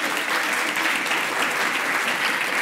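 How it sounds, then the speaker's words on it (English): An audience applauds a presenter at a business talk on innovation, a steady, dense wash of clapping from many hands, loud and continuous throughout. "Make some noise for Madhvi"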